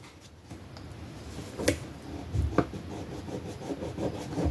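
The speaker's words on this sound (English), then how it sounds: "Rub it so that it sticks." Adhesive tape being rubbed down by hand during a home crafting project, giving a soft, steady rasping friction with a couple of slightly sharper scrapes, close and fairly quiet with no talking.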